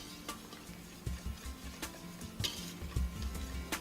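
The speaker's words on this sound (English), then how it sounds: "now we add the cream, and we're going to whisk that in" A whisk stirs cream into a banana cream pie custard mixture in a bowl, giving faint, irregular ticking and tapping clicks against a low background.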